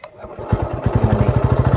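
A motorcycle engine close by fires up into a fast, pulsing idle that chugs loudly and evenly.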